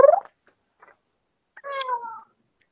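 A pet cat gives a loud short meow up close, then after a quiet gap lets out a longer drawn-out meow, with a couple of faint ticks in between.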